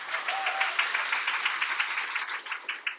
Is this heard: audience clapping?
yes